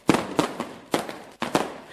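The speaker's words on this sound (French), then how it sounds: "où ont été lancés de gigantesques feux d'artifice dans la nuit du 31 décembre 2023 au 1er janvier 2024" Giant fireworks burst over a crowded New Year's Eve celebration in Lomé, three sharp loud explosions with crackling tails spaced across the moment, no talk.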